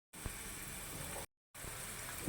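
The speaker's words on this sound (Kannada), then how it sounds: "ಈರುಳ್ಳಿನೂ ಸ್ವಲ್ಪ ಕಲರ್ ಬರೋವರೆಗೂ ಫ್ರೈ ಮಾಡ್ತೀನಿ" Onions frying in a pan until they color give a steady close sizzle that runs for about a second, stops in a short silence, then resumes just as evenly.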